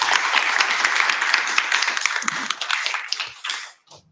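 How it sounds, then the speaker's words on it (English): Audience applause for a speaker at a Global Azure developer meetup in Sydney: a room of people clapping steadily and fairly close, thinning into a few scattered claps before stopping abruptly. "round of applause for Renaldi, please."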